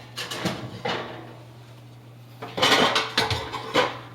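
Metal clanks as the lid of a standard roasting pan, set across two stovetop burners, is handled and put in place: a few light taps at first, then a louder cluster of ringing clatters, close and with no talk.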